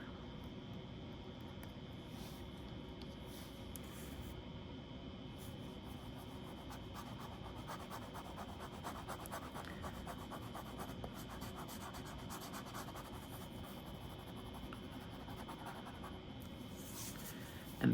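A fountain pen nib scratches steadily across paper, laying down bitter chocolate ink in a continuous, faint, close-up writing texture with no voices.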